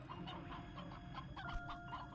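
Hens and roosters in the Slime Rancher 2 video game cluck in short, repeated bursts over a dense, steady wash of game ambience and music.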